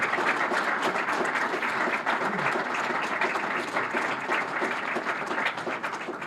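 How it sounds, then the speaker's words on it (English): An audience at a charity awards ceremony gives a sustained round of applause for the mayor, a steady, moderately distant wash of clapping that continues evenly throughout. "how about a nice round of applause again for our friend the mayor"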